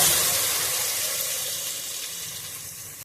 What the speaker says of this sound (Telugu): అల్లం వెల్లుల్లి పేస్ట్ వేసుకొని ఇలా బాగా పచ్చివాసన వెళ్ళేలాగా ఫ్రై చేసుకోవాలి